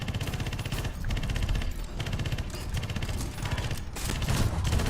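Sustained machine gun fire in the tank combat game War Thunder rattles in rapid, dense bursts, loud and close, running almost without pause and with no voices over it.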